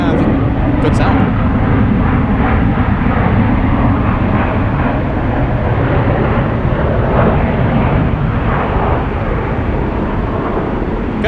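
An airliner touches down at San Francisco International Airport with a loud, broad roar of engines and rushing air, sustained and fairly close, with a voice talking over it.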